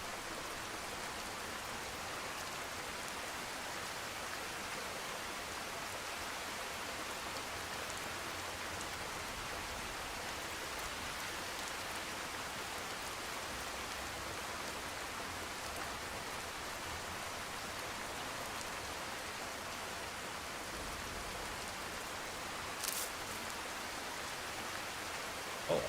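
Steady rain falls in the video game Skyrim, a constant even hiss of drops on the ground that lasts the whole time at a moderate level, with no voices.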